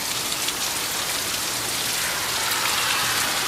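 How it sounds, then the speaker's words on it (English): Rain falls steadily at night on a cold evening, a dense, even hiss of drops hitting surfaces close by, with no voices. "I'm out in the rain."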